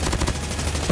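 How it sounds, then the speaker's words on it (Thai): Shotgun blasts in the Call of Duty Mobile shooter game, a rapid burst of loud, booming shots packed into a single second of dense battle noise. "ไอ้ลูกซองไอ้ลูกซองยิงก็ไม่โดน"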